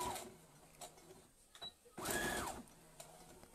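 Sewing machine stitching a lined fabric bento bag, operated standing up, giving a short close whirring burst of stitching amid faint clicks and handling noise.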